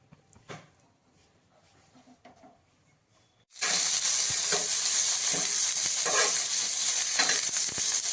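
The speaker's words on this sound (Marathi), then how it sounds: "पनीर पण आपण तेल टाकून आधी पनीर तळून घेऊया" Paneer hits hot oil on an iron tawa. A few seconds of quiet handling noises give way to a sudden loud, continuous close sizzle with crackles, and no one talks.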